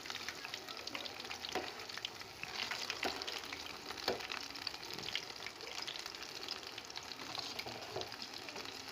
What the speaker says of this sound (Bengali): আর একটা পিঠ উল্টে দিয়ে আমি ভালো করে ভেজে নেব।